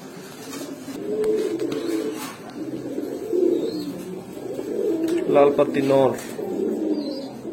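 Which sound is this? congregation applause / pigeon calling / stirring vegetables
pigeon calling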